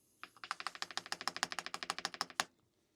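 About sixteen quick presses of the space bar on a Keychron K10 HE wireless keyboard rattle out in a fast, even run of crisp clicks, close and clear with no voices.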